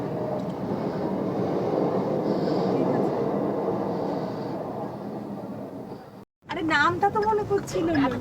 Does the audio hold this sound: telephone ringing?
no